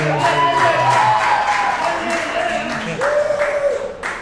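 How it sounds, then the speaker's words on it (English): An audience at a girls' soccer team event gives a round of applause, a steady wash of clapping heard under a voice that keeps talking through it. "can we get a round of applause one more time?"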